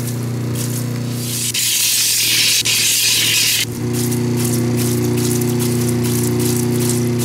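A lapidary polishing wheel runs steadily at 3000 grit on a cabochon gemstone, giving a constant loud motor hum with a hissing, spraying wash of water that swells for a couple of seconds midway.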